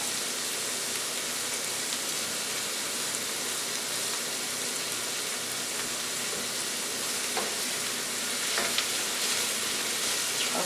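Mushrooms fry in a pan for a seafood ramen stir fry, giving a steady, dense sizzle that stays close and continuous throughout with faint stirring clicks and no talk.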